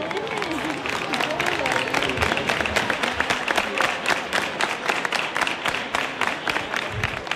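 Applause from a crowd of brotherhood members greeting the start of a Holy Week procession in Granada, Andalusia: dense, steady clapping throughout with crowd murmur and a voice speaking over it.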